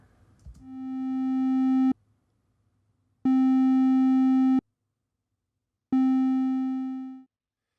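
Three pure electronic chiptune tones from the Pico-8 fantasy console in a row, separated by short silences; the first swells in gradually, the second holds steady, and the third fades away.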